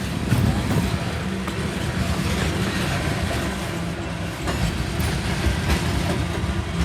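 A BNSF manifest freight train with coal cars and gondolas rolling past on the Spokane Subdivision, a close, steady rumble with rattling wheel clatter throughout.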